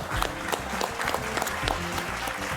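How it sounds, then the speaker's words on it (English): An awards-ceremony audience at NDTV Indian of the Year 2025 applauds an award winner with dense, steady clapping that fills the hall evenly throughout, with no voices over it. "a huge round of applause for Aryan Khan."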